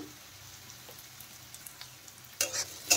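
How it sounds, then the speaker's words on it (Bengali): Spices with garlic, chilli, onion, salt and turmeric stirred and fried in a pan, a soft steady sizzle with faint scraping, then a few louder clattering stirs near the end; no talking. "নেড়ে চেড়ে আরেকটু মশলা কষিয়ে নেব।"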